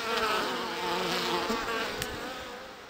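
Honey bees buzz steadily and close by at a beehive in spring, a dense continuous drone with no voices.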